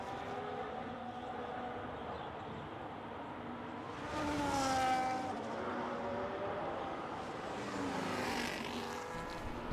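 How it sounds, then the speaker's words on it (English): Race cars out on track at Spa in a racing game, engines droning steadily with two louder passes swelling and fading as cars sweep by, no voices. "we already have cars out on track"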